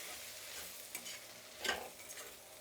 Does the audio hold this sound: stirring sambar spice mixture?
yes